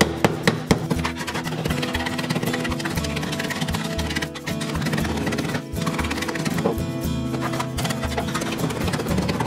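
Rapid, steady metallic hammer taps ringing on a copper plate, a dense continuous rhythm with a few louder strikes at the start.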